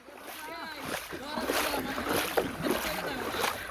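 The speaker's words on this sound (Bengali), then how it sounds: "তো এখন আমিও পানি পার হইতেছি।" Someone wading across water near a riverside char on a village fishing trip, irregular splashing and sloshing steps up close, with wind buffeting the microphone and voices in the background.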